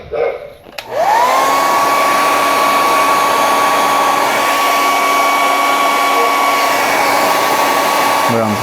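A heat gun warming resin model kit parts for a 1/72 Sinanju switches on with a sharp start and holds a loud, steady high whine and airy roar, close and alone.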